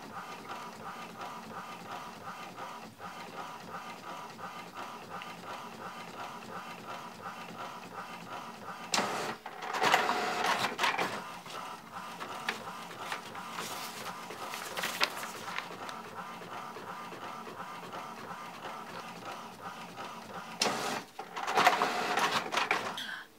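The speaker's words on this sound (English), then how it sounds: "coming out the printer" An inkjet printer printing pages for a DIY fish tank background, a steady mechanical whir and hum with louder bursts of clattering paper feed and rasping print-head passes, close by and without talking.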